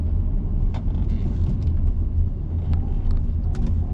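Car engine rumbling low and steady while the driver downshifts during a driving lesson, with faint interior clicks and knocks over the drone.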